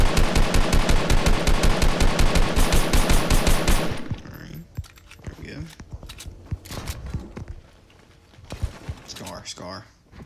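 Rapid automatic gunfire in a Fortnite-style solo duos battle royale match, a dense loud burst of shots for about four seconds, followed by quieter scattered game sounds and movement.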